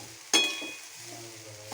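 A single sharp clink of a spoon against a pan, followed by a soft, fading sizzle as sugar and grated coconut are stirred and sautéed.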